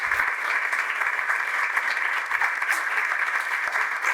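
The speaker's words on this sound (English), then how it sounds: "This is the real clapping." A conference audience at a yoga festival applauds in a sustained round of clapping, even and full, with occasional distinct single claps poking through the crowded patter.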